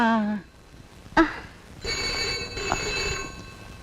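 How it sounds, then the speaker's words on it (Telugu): A telephone rings with a bright, sustained electronic tone after a short burst of voice and a sharp knock, fairly close and clear. "ఒక్క నిమిషం ఫోన్ వచ్చింది"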